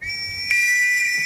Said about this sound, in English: Then the whistle blows.